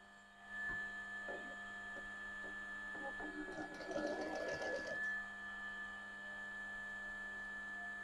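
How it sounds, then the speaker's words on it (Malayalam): A sewing machine stitches a zip onto a cushion cover, its needle whirring in a short steady burst close by over a faint constant hum, with brief pauses before and after. "തയ്യൽ കൊടുക്കാം"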